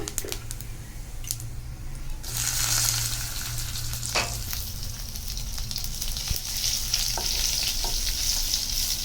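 Garlic drops into hot oil in a kadai for aloo methi bhaji, and a loud sizzle bursts up, then crackles on steadily and close, with occasional light stirring clicks.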